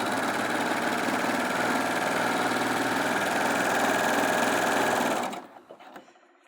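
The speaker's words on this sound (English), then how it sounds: "those beautifully neat overlocking stitches on the denim and on the jersey without changing any settings at all" A Baby Lock Acclaim overlocker stitches denim in a fast, steady mechanical whirr at close range, then stops abruptly, leaving a few faint handling taps.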